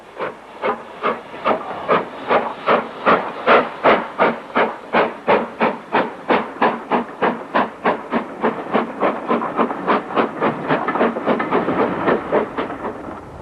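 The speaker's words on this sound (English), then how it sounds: "A Weymouth-bound local train accelerates away, having connected with the branch train on the 2nd of April." A local steam train bound for Weymouth accelerates away from a branch-line connection. Its exhaust beats are loud and sharp, in a steady, quickening rhythm over a hissing background, with no talk.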